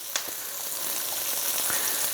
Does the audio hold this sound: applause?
no